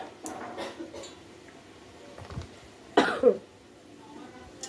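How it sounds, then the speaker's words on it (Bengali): A person gives a sharp, loud double cough, nearby and sudden, in a kitchen setting. Quieter sounds and brief murmurs come before it. "তোকে দেখে আমারও কাশি হলো।"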